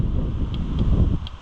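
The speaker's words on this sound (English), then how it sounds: "It's also super windy" Strong gusting wind buffets the microphone outdoors beside a neglected Oliver 1365 tractor, a dense low rumble with irregular surges and a few faint metallic clicks.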